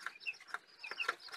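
Crossbred Joper chickens (Javanese native crossbreed) clucking softly, several short chirpy calls in quick succession, fairly quiet and close.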